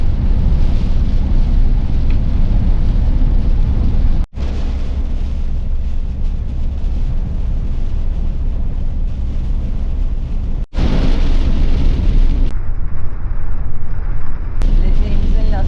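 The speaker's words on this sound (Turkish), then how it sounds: "Nasıl bir fırtına ya? Nasıl sallıyor arabayı?" Storm wind and rain buffet a caravan driving toward cloudy mountains in Turkey, a constant loud roar of rushing wind and rattling that fills the whole stretch with only brief drops.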